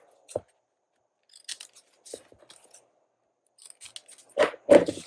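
Scissors snip through book pages in scattered, sharp, close-up cuts separated by quiet gaps, ending in a quicker cluster of louder snips; no one talks over them.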